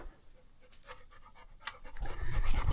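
Timber the dog pants rapidly and close by with quick rhythmic breaths, which grow louder and heavier toward the end along with some rustling movement.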